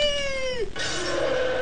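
A cat gives one loud, close meow with a drawn-out tone that bends downward, followed by a short rough, breathy tail.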